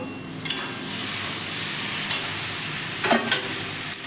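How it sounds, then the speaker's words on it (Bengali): Spice masala with papaya and potato frying in a pan, a steady close sizzle punctuated by a few short scraping strokes of a spatula stirring the mixture. "তাই জন্য একটু ঢাকা দিয়ে আমি নেড়ে নিচ্ছি।"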